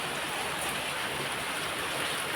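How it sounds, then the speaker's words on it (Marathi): Heavy rain pours down steadily outdoors, a dense, unbroken hiss of falling water with no voices. "पाऊस बघा किती चालू आहे"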